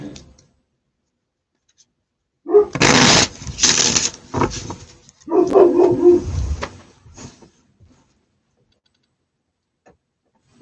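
A dog indoors erupts in loud, close barking and agitated yelps in two bursts lasting several seconds, then falls quiet, with nobody talking over it.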